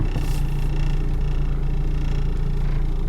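A 1997 Geo Prizm engine idles on worn motor mounts. The running is loud and close, with a steady low hum and a rhythmic vibrating throb, and it holds even with no revving.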